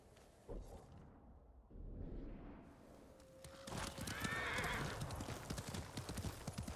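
A white horse in the samurai game Ghost of Tsushima, hooves clip-clopping in a quickening rhythm as it neighs loudly midway, the whinny rising over the galloping steps.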